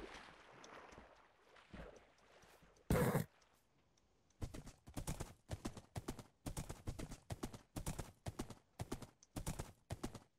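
Horse hooves clip-clop in Minecraft, a quick regular run of close hollow clops after a quieter stretch with a brief burst of noise.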